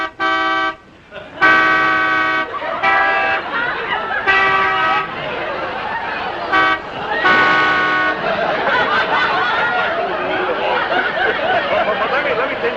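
A voice imitates a Canada goose with a run of nasal honks, several in a row, mixed with chuckling and other voices talking.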